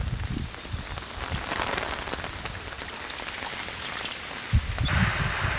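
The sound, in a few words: rain falling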